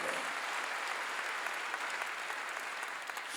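A church congregation breaks into sustained, even applause, a dense wash of many hands clapping at once that stays steady and fairly loud from start to finish.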